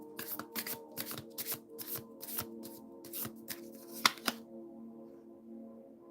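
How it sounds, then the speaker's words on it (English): Tarot cards being shuffled by hand in rapid riffling bursts, a quick run of papery flutters with a few sharper snaps near the end, close and fairly quiet, then stillness. "Let's see what we get with tarot. Let's shuffle these back in here."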